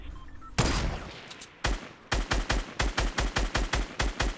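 Gunfire in Fortnite Battle Royale: a single loud shot, a pause, another shot, then a rapid rhythmic burst of about a dozen evenly spaced sharp cracks, close and punchy, with no talk over them.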